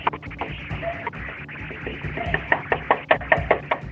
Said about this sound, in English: This woman appears knocking desperately on the door of this house.